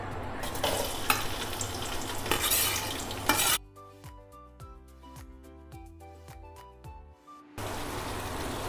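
Onions frying in oil in a pan for biryani, a dense sizzle with stirring and utensil clatter that drops out midway under a stretch of music, then the frying hiss returns.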